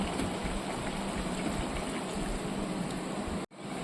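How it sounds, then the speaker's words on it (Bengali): Water pours steadily into a pan of mixed vegetables for Bengali labra curry, a close, continuous rushing stream that cuts off abruptly near the end. "3-4 মিনিট কষানোর পর এবার জলটা দিয়ে দিচ্ছি।"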